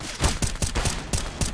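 Rapid bursts of MP9 submachine gun fire in the video game Counter-Strike, on the map Train, a quick rattling string of close shots over about a second and a half.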